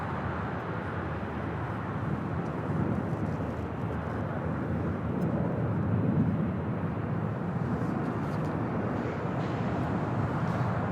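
Boeing 777 freighter on the south side of LAX airport, a broad, steady roar of jet engines at a distance, continuous and fairly even in loudness, swelling slightly around the middle.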